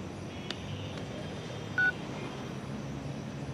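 A single short keypad beep from a phone being dialed sounds faintly over a steady low hum of traffic or a moving car interior.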